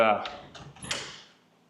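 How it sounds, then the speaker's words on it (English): A door shuts in a timber frame house with a few soft knocks and a final thud, following a brief voice at the start. "let me go shut this door real quick"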